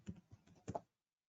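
A few quick, light keystrokes on a computer keyboard, typed into a search box, soft and close with a brief pause before the last pair of taps, then silence.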